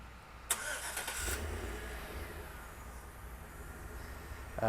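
A 2013 GMC Yukon Texas Edition engine cranks and catches on remote start, then settles into a steady, fairly quiet idle heard from nearby, with a faint click right at the end.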